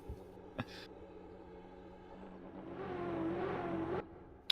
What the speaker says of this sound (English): I hear revving